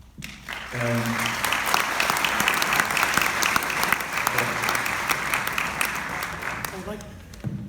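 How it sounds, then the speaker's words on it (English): Audience applause at a community meeting of a civic group in Nanuet, a broad steady wash of many hands clapping that swells quickly and carries on for several seconds, with brief voices near the start and end. "I'd like another round of applause to Dave Ramirez"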